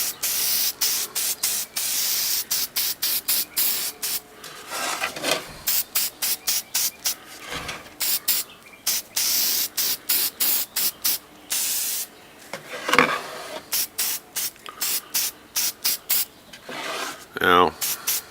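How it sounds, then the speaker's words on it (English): Rapid bursts of spray paint hissing along the edges of a wooden Western-style plaque sign, short pulsed blasts repeating steadily, close and fairly loud, with a few brief rattles between sprays. "So we're going to spray all along these edges."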